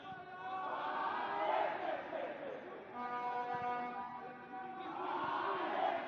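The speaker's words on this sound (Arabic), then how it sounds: "اسمع أصوات الجمهور في ملعب المباراة، أصوات الجماهير في ملعب المباراة" Large football stadium crowd at a Niger versus Zambia match, a sustained roar of cheering and chanting with horn-like tonal blasts rising and falling across the whole stretch.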